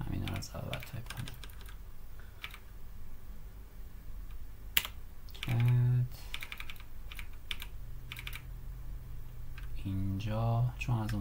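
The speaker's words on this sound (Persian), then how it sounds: "همین رو از اول تایپ کنم." Rapid typing on a computer keyboard while entering router package-manager commands, with clustered bursts of key clicks that pause now and then, under intermittent speech.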